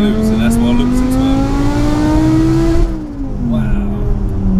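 A supercharged 5.2-litre V10 in a BMW E60 M5 with an X-pipe exhaust revs loud and close, its pitch climbing steadily before easing off.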